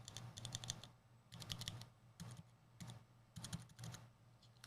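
Keys on mechanical keyboards fitted with switches from different manufacturers are pressed in quick bursts of rapid clicky taps, close and crisp, with short pauses between each run and no talking.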